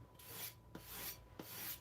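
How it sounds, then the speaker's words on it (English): A 52100 steel knife blade is stropped at a high angle on plain denim stapled to wood to remove the burr, giving three soft rhythmic rasping strokes, close and fairly quiet, with no talking. "If you see the Japanese when they sharpen, they often do this very high angle stropping to take off the burr."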